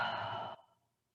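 A long, audible exhale during a seated yoga twist, a single soft breath out that fades away over about half a second.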